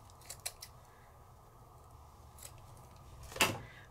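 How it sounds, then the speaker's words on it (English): Scissors snip through craft paper in a quiet room: a few light clicks early on, then a near silent pause and one sharper, louder cut toward the end. "let's cut a little bit of this"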